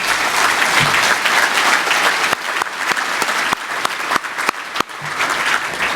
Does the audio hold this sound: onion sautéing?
no